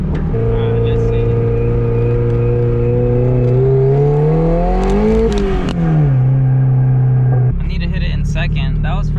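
A turbocharged car engine revs up hard in first gear, pitch climbing steadily to a peak before dropping back, then a shift with a rougher, lower engine note; loud and close.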